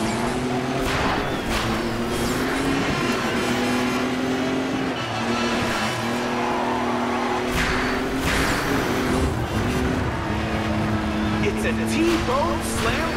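Rally cars from Dirt Showdown race and jostle past one another, engines droning steadily with shifting pitch throughout, while a voice talks over the racing noise.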